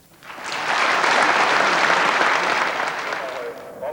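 Applause at the election of Hong Kong's first chief executive of the Special Administrative Region, a dense, steady clapping from a large hall crowd that swells quickly, holds for several seconds, then tapers off.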